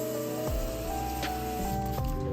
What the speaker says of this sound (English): Spray, agitate, let it sit for a few minutes, then rinse off.